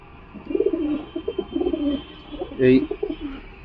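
Madras pigeons cooing close by in a series of soft, throaty rolling coos with brief pauses, one louder burst near the end.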